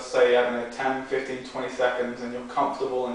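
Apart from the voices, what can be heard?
None of the usual background noises is heard.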